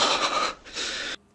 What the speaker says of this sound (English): Why is he breathing hard?